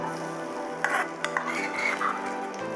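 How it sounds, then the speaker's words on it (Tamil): Six cloves of finely chopped garlic frying in butter: a steady, close sizzle with a few clinks and scrapes of a spoon stirring the pan. "லைட்டாக ஃப்ரை பண்ணிக்கோங்க."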